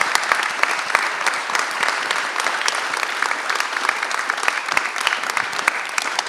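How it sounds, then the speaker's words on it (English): An audience at a community talk breaks into continuous applause, many hands clapping together in a full, steady roar with crisp individual claps standing out. "I think we can all get around that with a bit of a round of applause."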